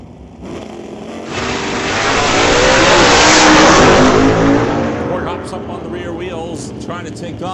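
A 1967 Ford Fairlane and a Camaro launch off the line at a drag strip, engines building to a loud, sustained roar that peaks and then fades as they pull away, with an announcer talking over it.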